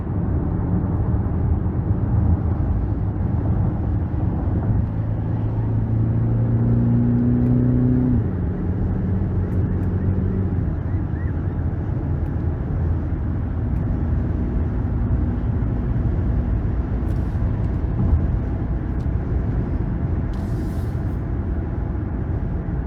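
A 2023 Cadillac XT5 Premium Luxury with a 2.0-litre turbo four-cylinder and AWD cruises on an interstate, giving a steady loud cabin rumble with road noise and a brief rising engine note partway through.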